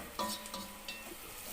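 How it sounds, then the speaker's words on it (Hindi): Onions browning in a pan give off a soft, continuous sizzle, with a few quick stirring scrapes and utensil clinks close by. "दूसरी तरफ मैं यहाँ पे प्याज ब्राउन कर रही हूँ।"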